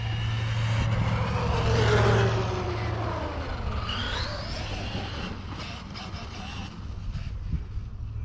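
A Traxxas Maxx RC truck running on a Hilldow LiPo battery drives up and down a driveway, giving a steady, fairly loud motor whir and rumble that swells and then eases off, with no talking.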